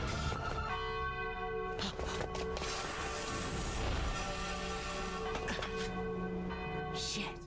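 Bells ring out in a Sword Art Online anime scene, layered sustained tolling with strong ringing overtones that fill the whole stretch, steady and fairly loud with no talk over them.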